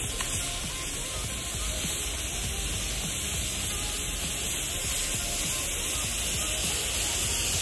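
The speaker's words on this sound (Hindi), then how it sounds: "मतलब इसको कितना भी पानी डाल लो" Water poured over a papaya that has been scorched red-hot by molten aluminium at about 1000 °C, a steady broadband splashing gush running at a constant level throughout, with no other sounds apart from it.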